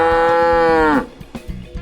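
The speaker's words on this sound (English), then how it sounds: "This is cow. What sound does it make?" A cow gives one loud, drawn-out moo lasting about a second, close and clear, trailing off into quiet.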